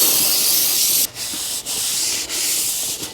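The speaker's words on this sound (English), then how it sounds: "I'm just going to spray it on a little paper towel here and wipe that down." A steady hiss of brake cleaner being sprayed onto a paper towel and rubbed over new rear brake parts of a Nissan runs close up, briefly interrupted a few times.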